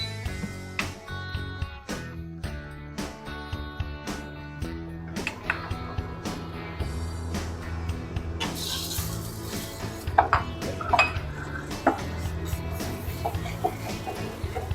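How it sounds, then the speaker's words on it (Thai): Thai curry paste being stir-fried over low heat in a pan, with irregular clatter and scraping of a utensil against the pan and a soft sizzle, close up and alone. "เอาพริกแกงนะครับมาผัด"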